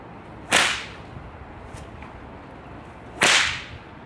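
A whip snapped in an overhead crack gives two sharp, loud cracks about three seconds apart, each a bright explosive snap with a short tail, over faint outdoor background noise.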